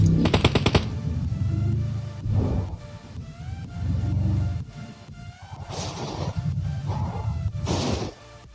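Gunfire in PUBG Mobile as an enemy BRDM armored vehicle is shot up: a quick burst of rapid shots opens, followed by heavy rumbling impacts and whooshing blasts, loud and close, with no talk.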